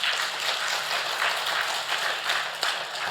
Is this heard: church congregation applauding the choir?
yes